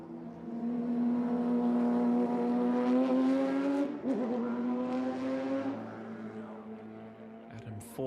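An Art of Speed Porsche 911 Cup race car runs on a street circuit during qualifying, its engine note climbing steadily before a sharp shift and a fading pass, with another engine flaring near the end.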